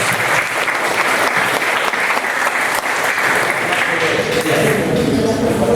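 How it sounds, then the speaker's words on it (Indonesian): Loud, sustained applause from an audience at an Indonesian interpersonal-skills training session, a thick even wash of clapping filling the room with no talk on top. "Tepuk tangan dulu."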